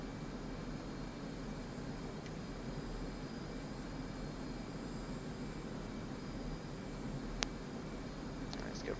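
An F/A-18 jet engine in the DCS flight simulator hums as a steady, fairly quiet drone during a go-around with flaps at half, broken only by a couple of brief clicks near the end.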